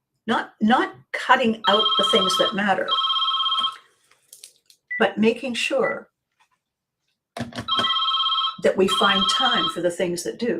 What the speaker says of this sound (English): That is a phone number that rings and nothing happens.